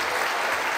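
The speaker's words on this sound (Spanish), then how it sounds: "vamos a darles un aplauso si son tan amables" Audience applause at a kindergarten community event, a steady dense wash of clapping from a crowd held at even loudness throughout this brief moment.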